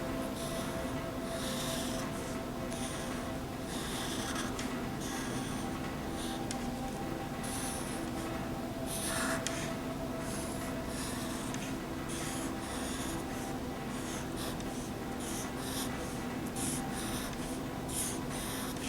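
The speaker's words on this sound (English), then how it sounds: "Inside the wings, I'm going to draw some large feathers." A pen scratches steadily across paper while drawing feather patterns in a zentangle owl, with soft close-up strokes and rubbing repeating over a constant background hiss, no voices.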